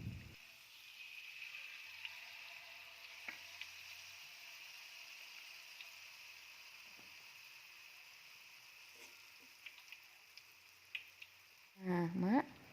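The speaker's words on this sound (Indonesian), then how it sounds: "jadi kita goreng melingkar seperti ini ya mak" A faint, steady sizzle of peyek batter frying in hot oil in a wok, with occasional soft clicks and a brief louder clatter near the end.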